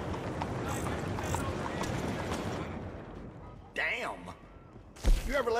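Horse hooves clip-clop near the stables in a town in the video game Red Dead Redemption 2. The steady clatter runs under dense game ambience, and voices come in near the end.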